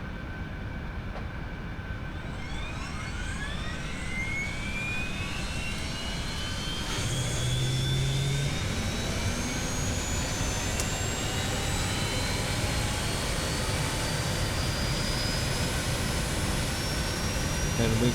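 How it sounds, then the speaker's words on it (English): Jet engine of an Eclipse 550 spooling up in the X-Plane flight simulator, a steady loud roar with rising whine tones climbing over about eighteen seconds, continuous and alone. "And let's go ahead with our left engine."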